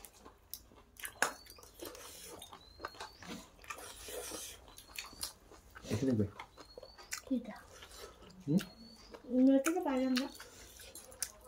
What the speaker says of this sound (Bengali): তো বন্ধুরা খাচ্ছি, খেয়ে দেখি